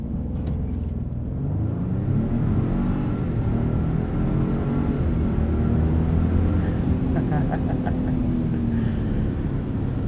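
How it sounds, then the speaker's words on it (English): A 2021 Ford F-150 Tremor pickup on 35 or 37-inch tires launching from 0 to 60 mph in four-wheel-drive high, heard from inside the cab as a steady, loud, rumbling engine drone that builds slightly, with no one speaking. "Let's do a little 0 to 60 launch here in 4 high"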